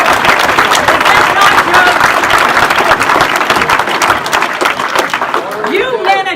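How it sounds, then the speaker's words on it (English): Audience at a climate keynote breaking into loud, dense applause and clapping that fills the room continuously, with voices and cheers mixed in and a brief whistle near the end. "You men are just clapping out of defense"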